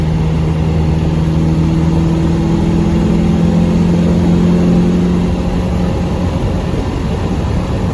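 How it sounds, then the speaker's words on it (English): A 1994 Land Rover Defender 110 with the 300Tdi diesel is driving, its steady engine drone and a low hum running loud and continuous while wind rushes over it throughout. "It's just pretty much some wind noise and engine noise, and that's about it."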